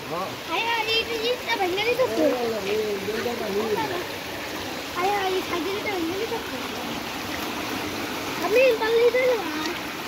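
Rainwater floodwater rushes along like a stream in a flooded area, a steady splashing, trickling flow throughout, heard under nearby people talking.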